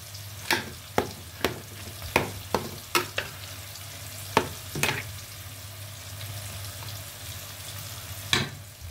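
Onions sautéing in a pan for a vegetable curry, a low steady sizzle broken by a series of sharp spatula clacks and stirring taps, close with no voices.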